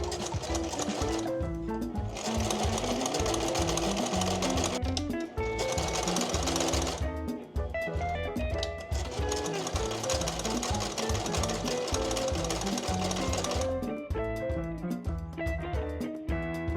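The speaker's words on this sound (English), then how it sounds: "So I'm going to sew those buttonholes on, then you can sew the waistband" A sewing machine runs in long, steady bursts with brief pauses while stitching buttonholes and a waistband on a summer garment, its rapid needle rhythm loud and close throughout.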